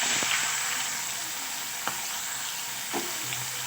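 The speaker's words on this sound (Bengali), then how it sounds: "এই পেঁয়াজটা আমি 4-5 মিনিট তেলের মধ্যে নাড়াচাড়া করে নিয়েছি" Sliced onions frying in oil with a dried chilli tempering for Bengali fish curry, a dense, steady sizzle close up with a few faint stirring knocks, no talk.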